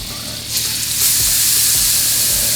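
Seasoned redfish fillets sear in a scorching hot cast iron pan, a steady loud sizzle that swells after a fresh hiss and holds bright and close, with faint low knocks beneath.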